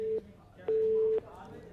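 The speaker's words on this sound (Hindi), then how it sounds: "अब देखना ये होगा कि फोन कट गया है या काट दिया गया है" Telephone busy tone after a call is cut off, steady beeps with pauses between them, loud and close, with no other sound around them.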